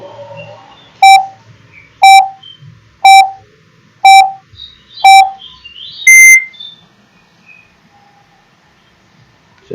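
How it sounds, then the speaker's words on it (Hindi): Quiz countdown timer on a general knowledge question show: five evenly spaced sharp electronic beeps about a second apart, then a longer, higher final buzzer tone, all clear and loud with no talking. "चलिए आपका टाइमर शुरू हो गया है।"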